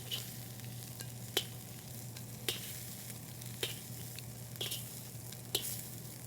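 Shrimp frying in a pan for Indonesian bami goreng, a faint steady sizzle with a low hum beneath and a few sharp stirring clicks at regular intervals.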